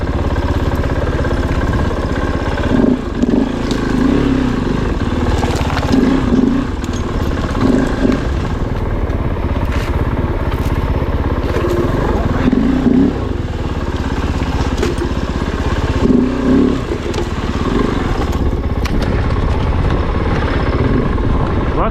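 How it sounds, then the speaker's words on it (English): A Kove 450 Rally dual-sport motorcycle pushes through underbrush on a tight singletrack trail in British Columbia, its engine droning loud and steady the whole time while brush scrapes and rustles against the bike. "Kove, plowing through some underbrush on some tight single track that is just wide enough for the bars to fit through."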